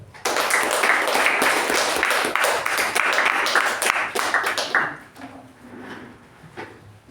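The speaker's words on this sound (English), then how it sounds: "So with a huge round of applause, please welcome Toastmaster Chetan." A huge round of applause from a Toastmasters club audience, dense clapping filling the room for about five seconds before fading to scattered claps and quiet.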